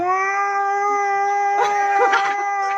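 A sustained, tonal cat meow holds steady for a couple of seconds, with a second wavering meow near the end over faint background noise.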